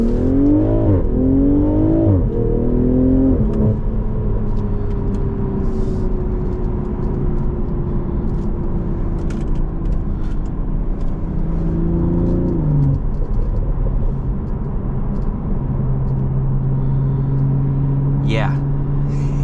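A 2022 BMW Z4 M40i's engine revs in quick rising bursts, then settles into a strong, sustained accelerating drone heard from inside the car, with a voice talking over it.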